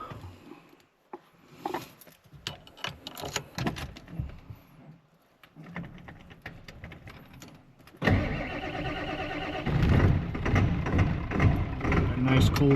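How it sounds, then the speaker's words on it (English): A 1994-1997 Ford OBS truck cold starting: door and handling noises first, then the engine cranks and catches around the middle and runs loud and rough, growing steadier toward the end. "A nice cold start to her."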